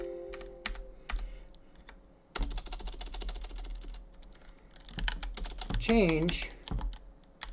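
Keys on a computer keyboard are typed in quick irregular bursts with short pauses, close and fairly quiet, while someone talks softly over part of it.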